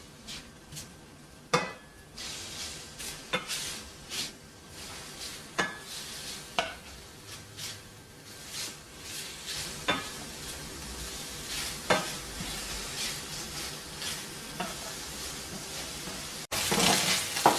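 Bacon frying in a pan with no added fat until crisp, with a soft, steady sizzle broken by periodic sharp clinks and scrapes of a utensil against the pan.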